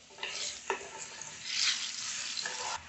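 Cut mushrooms fry in oil alongside cashews in a pan, a quiet hiss with a swell of sizzling midway and a couple of soft stirring scrapes, heard close and alone.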